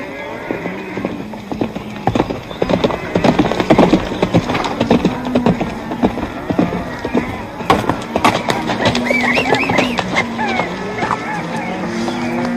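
Hooves clip-clop in a steady plodding rhythm beneath men's conversation, with outdoor background noise throughout.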